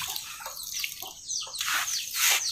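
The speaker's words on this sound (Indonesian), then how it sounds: "Kita siram seperti ini." Liquid organic fertilizer is poured onto garden soil around a plant, an uneven splashing gush that swells and fades in bursts, close and fairly loud, with no speech.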